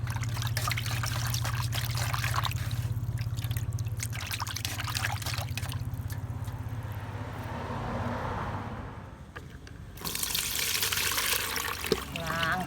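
Water pours and drains away in a home setting, a continuous rushing trickle with a low rumble, shifting in strength and surging again near the end, with someone talking over it.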